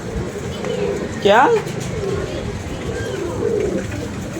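Pigeons coo softly amid steady background noise, with one brief louder call standing out near the middle, while a person speaks over the sound.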